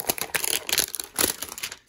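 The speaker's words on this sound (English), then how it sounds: "Sorry for the noise of this loud plastic." Loud plastic wrappers on Select Basketball 2020-21 card hanger packs crinkle and rustle in quick uneven bursts, close to the listener, with no voices.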